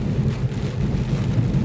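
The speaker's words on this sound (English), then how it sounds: "The wind is kicking up, rain's coming down." Steady wind and rain ahead of Hurricane Ian in Winston-Salem, North Carolina: a constant, loud, low rumbling roar of gusts and falling rain with no break and no talk.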